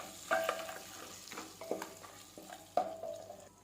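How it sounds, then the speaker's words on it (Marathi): Whole cardamom pods and shahjeera (black caraway) frying in oil in a pan for egg pulao, a soft sizzle broken by a few stirring scrapes and clinks at close range, with no voices. "वेलदोडे आणि शहाजिरे व्यवस्थित फ्राय करून घेऊ थोडंसं फुलेपर्यंत"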